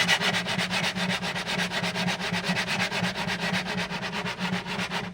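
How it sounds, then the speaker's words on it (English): Hand sanding of an old acoustic guitar's wood with 120-grit sandpaper wrapped on a sanding block: fast, steady back-and-forth rasping strokes in an even rhythm, close and moderately loud, with no voices. "Again, 120 grit sandpaper, and I'm gonna make a sanding block like this"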